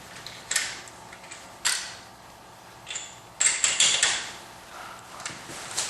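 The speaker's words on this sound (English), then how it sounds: "I'm just torquing them down." Torque wrench tightening the wheel lug nuts on a 2007 Subaru Impreza WRX STI, heard as a few sharp clicking bursts with clustered ratchet-like clicks near the middle, moderately close and alone.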